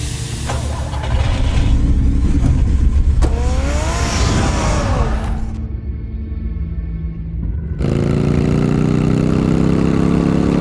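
A car engine in the Batman Telltale Series game fires up with a rising rev, then settles into a loud, steady idle rumble with shifting tones as the scene cuts between shots.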